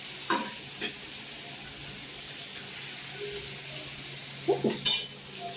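Pomfret fish frying in a pan gives a quiet, steady sizzle, with a few short clattering bursts of utensils near the start and again near the end, and no talking.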